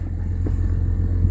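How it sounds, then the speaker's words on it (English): A 2018 Honda Pilot idles with a steady, low exhaust rumble, heard close to the tailpipe with a constant drone and no revving. "shot of the exhaust with the motor running"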